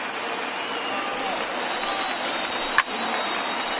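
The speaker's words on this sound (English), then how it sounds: "Now what's left of this crowd this afternoon gets to their feet." Crowd at a Major League Baseball game, Colorado vs New York Yankees, rising to its feet: a steady wash of distant applause and cheering fills the stands, with one sharp crack partway through.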